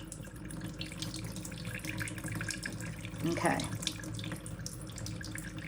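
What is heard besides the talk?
water poured onto a house plant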